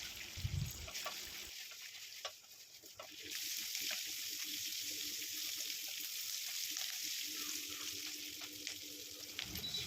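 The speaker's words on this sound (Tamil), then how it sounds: "ஒரு 20 போல் சின்ன வெங்காயம் ஆட் பண்ணி நல்லா வதக்கி எடுத்துக்கணும்." About twenty small shallots sautéing in a pan for a Tamil bitter gourd curry, giving a steady close sizzle with occasional stirring scrapes and a brief bump near the start, no talking.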